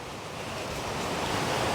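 Stream water rushing down toward a misty waterfall at Kanthanpara, heard as a steady, broad hiss of flowing water, fairly close and continuous, ending abruptly.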